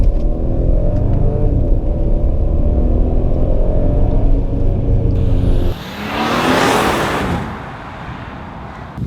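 An Audi Q8 is heard while driving, with a loud, steady engine and exhaust rumble that cuts off partway through, followed by a rushing whoosh of road and wind noise.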